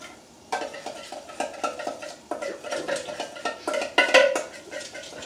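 A spoon clinks and scrapes steadily against a dish while coleslaw dressing is stirred, with quick repeated close taps in a brisk rhythm.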